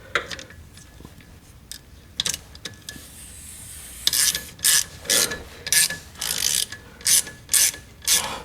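A ratchet wrench loosens the bolts of a pendulum/dogbone engine mount on a Mk8 GTI, with fast clicking bursts starting faint and becoming loud, close, repeated ratcheting runs in the second half.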